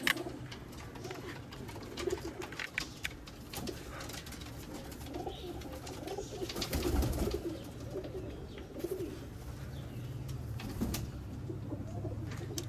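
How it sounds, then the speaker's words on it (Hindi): Teddy pigeons coo softly and repeatedly near at hand, low throaty calls over a steady background hum, with occasional rustles and clicks. "ये कबूतर है प्यारे दोस्तों।"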